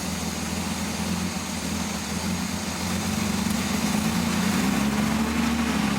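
A 1940 car engine idles while warming up, a steady low rumble that thickens slightly and rises in pitch toward the end, heard alone without voices.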